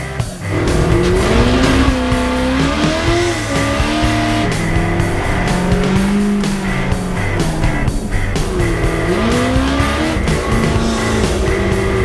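A race car engine roars continuously at close range, revving up and down with tire noise as it slides on a dirt track, loud and steady throughout.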